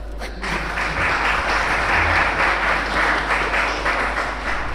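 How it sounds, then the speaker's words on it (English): An audience applauds steadily, a dense wash of many hands clapping at once, sustained and fairly loud throughout. "Clap for yourself."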